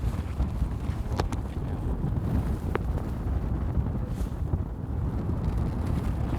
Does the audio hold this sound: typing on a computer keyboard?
no